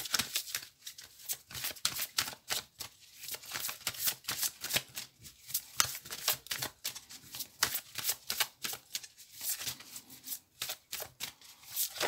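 Oracle cards shuffled for a Belline oracle reading, a fast run of crisp riffling slaps and flutters repeating steadily throughout, close and fairly quiet, with no talking.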